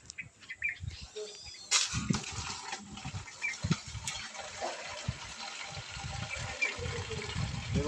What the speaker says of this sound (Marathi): पाणी चालू झाले आणि थोडंसं पाणी आपल्या इथं आहे ते पाणी भरून घेतोय